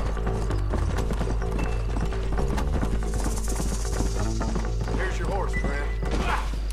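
Horse hooves clip-clop steadily at a trotting rhythm in the Red Dead Redemption video game, mixed with game music and other in-game effects, with a brief whinny-like sound near the end.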